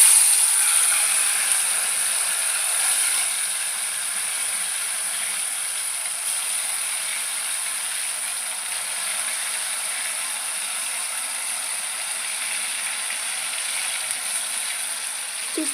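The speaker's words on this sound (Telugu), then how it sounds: "మనం మ్యారినేట్ చేసుకున్న చికెన్ కొంచెం కొంచెంగా వేసుకోవాలి." Marinated chicken frying in hot oil in a pan gives a loud, steady, hissing sizzle that continues evenly from start to finish, close by, with no voices.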